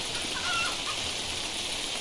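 A chicken clucks briefly and faintly, its short call partly buried under a steady, hissy background noise.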